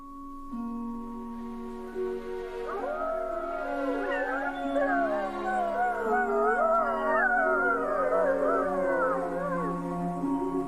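A pack of wolves howls at night in France, several long wavering voices overlapping and rising in a sustained chorus, clear and moderately near.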